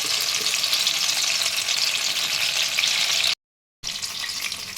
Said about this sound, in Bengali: এবারে আমি তেলের মধ্যে ছেড়ে দেবো।